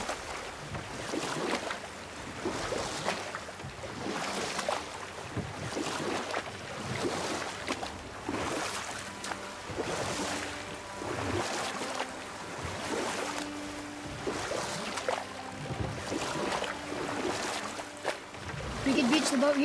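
Boat engine hum and sloshing water with rhythmic swells from a boat in the video game God of War, a steady mid-level wash of sound with scattered voices and game music faintly underneath.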